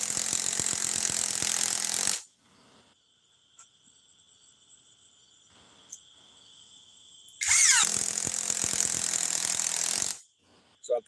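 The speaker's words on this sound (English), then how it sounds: "this is their compact impact wrench" Compact cordless impact wrench on a 24-volt, 2.5 amp-hour battery, two loud close bursts of whirring, hammering buzz about five seconds apart, with near silence and a faint high whine between them.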